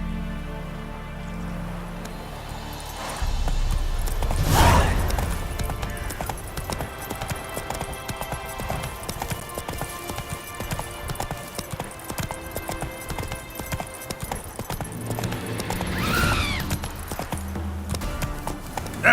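Roach the horse galloping in The Witcher 3, a steady clip-clop of hooves running throughout over an ambient game backdrop, with a couple of louder swooshing accents.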